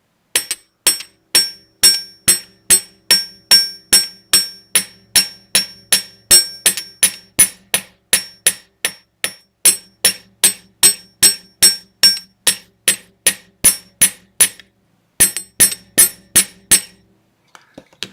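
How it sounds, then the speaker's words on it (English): Light, rapid hammer taps on wire resting on a metal bench block to flare it, striking in a steady, ringing rhythm with a few brief pauses, loud and close with no talking. "So I'll just hammer lightly here to kind of flare it a little bit"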